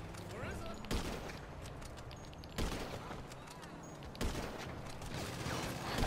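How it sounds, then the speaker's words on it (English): Bursts of minigun fire in GTA 5 come in three separate sustained volleys, each starting abruptly and rattling for a moment before trailing off, against a busy game background. "Ah, minigun, I repeat, minigun."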